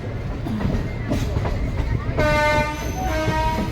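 Visakhapatnam to Bhubaneswar Intercity Express running out of the station, rumbling and rattling close by. Partway through, a sustained horn-like tonal blare rises over the running noise, loud and near.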